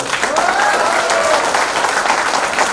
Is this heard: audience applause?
yes